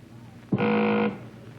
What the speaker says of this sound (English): The buzzer sounds, Mrs. Susskind.